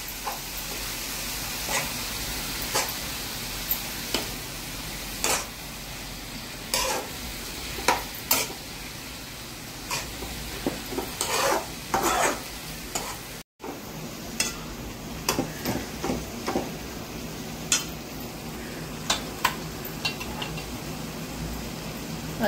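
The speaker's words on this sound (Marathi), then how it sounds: "चांगली मिक्स करून घ्यायचे।" Food frying in a pan while being stirred and mixed, a steady sizzle running throughout with repeated scraping and clinking strokes of the spoon against the pan at an irregular rhythm, close by and without talk.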